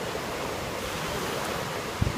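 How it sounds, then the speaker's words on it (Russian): Sea surf washing onto a sandy beach, a steady broad roar of waves with wind buffeting the microphone and a brief thump near the end, no voices. "Волны уже прямо сюда полпляжа затопили."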